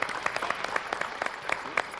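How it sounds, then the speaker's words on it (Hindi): Audience clapping for judge Mohanlal at a poetry competition, a fairly faint patter of hands with a few sharper claps standing out over two seconds. "एक बार जोरदार तालियां मोहनलाल जी के लिए।"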